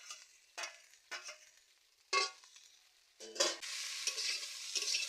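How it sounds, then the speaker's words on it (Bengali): Okra, potato and egg are stirred together in a frying pan: several separate scraping and clattering strokes, then a steady close sizzle near the end. "সব একসাথে মিশিয়ে ভেজে নিচ্ছি"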